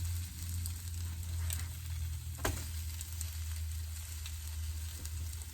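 Banana foster French toast fries in a sprayed pan with a continuous close crackling sizzle, interrupted by one sharp clack midway.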